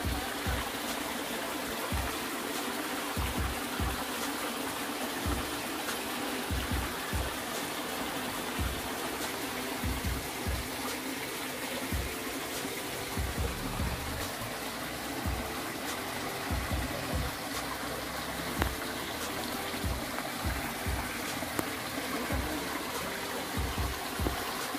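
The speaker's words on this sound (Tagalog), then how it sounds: "ang lakas ng tubig" A small, clear spring-fed stream on farm land flows with a steady, soft trickling rush, constant and moderately quiet throughout, with no voices.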